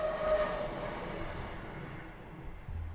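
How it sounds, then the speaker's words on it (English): A passing train rumbles in the background with a rough, raspy hiss, a steady low roar that slowly fades over a few seconds and sounds hoarse rather than clean. "that train sounded like it had a sore throat"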